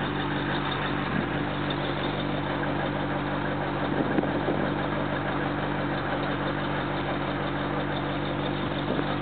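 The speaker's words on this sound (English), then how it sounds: "Hear that dual exhaust." A 1959 Cadillac V8 idles steadily through dual exhaust, a constant low rumble that holds close and even throughout with no voices.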